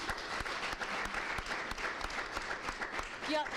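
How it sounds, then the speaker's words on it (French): Studio audience at a French television show breaks into sustained applause, dense rapid clapping carrying on throughout, with brief voice-like tones near the end. "Et c'est en cela qu'on peut encore applaudir Madame Adrienne Zepa"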